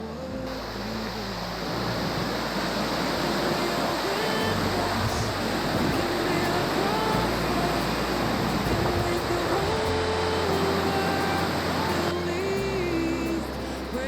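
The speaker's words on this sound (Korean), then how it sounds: "35m 높이 인공산 정상에서 내려오는 폭포가 장관을 이룬다." A 35 m indoor artificial waterfall in Singapore gives a steady, dense roar of falling water, loud and unbroken, with low music or hum beneath.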